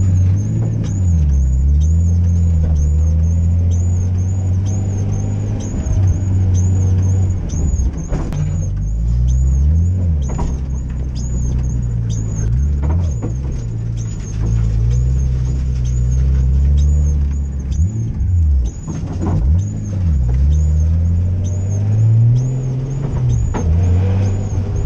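A car drives a lap of an abandoned race circuit, its engine droning loud and close throughout, with the pitch rising and falling as it accelerates and slows through the corners.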